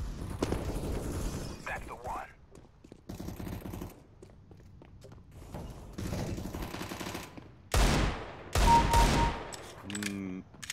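Bursts of gunfire from the Counter-Strike: Global Offensive video game, several loud rapid-fire volleys spread across the stretch with gaps between them, mixed with game effects and some talk.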